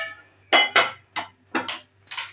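A cooking pan is set on a lit stove for okra gravy with a series of five or six sharp metallic clanks and clatters, close and distinct, with quiet gaps between them.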